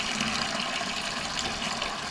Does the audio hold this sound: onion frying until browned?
no